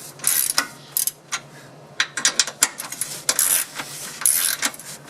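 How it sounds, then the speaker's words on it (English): Ratchet working bolts loose on a Jeep Grand Cherokee SRT 6.1L differential support, a quick series of close, bright metallic clicks in irregular bursts with short pauses between strokes. "I'm going to take these bolts out all the way"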